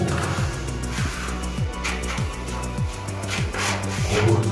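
Protruding bits are cut off a microcement wall surface with repeated rasping, scraping strokes about every half second, close and fairly loud with a continuous gritty hiss.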